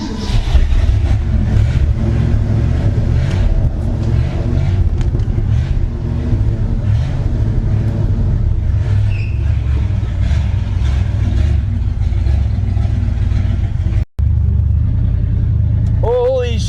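A long-frozen Mercury Montclair's engine runs steadily while the car drives, a loud continuous low rumble with mild revving, heard up close from inside with a brief dropout near the end.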